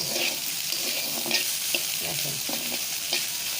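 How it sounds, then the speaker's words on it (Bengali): Fish frying with garlic, onion and chili in a pan makes a loud, close, steady sizzle broken by rhythmic stirring scrapes, with no talking. "মাছ আর রসুন পেঁয়াজ মরিচ একসাথে ভালো করে ভেজে নিতেছি"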